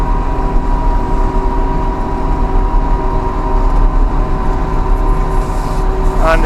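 A Kubota tractor grooms a trail, its engine droning steadily and loudly under load as it climbs a steep uphill, with a constant low rumble throughout and a brief higher whine near the end.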